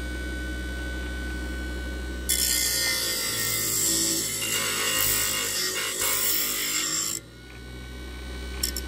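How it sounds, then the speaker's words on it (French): Sanding a small homemade machined part for an XT125X speedometer install: a steady, close rasping that runs for about five seconds over a low background hum, then stops abruptly. "Puis il faut peut-être poncer un peu pour que ça soit propre."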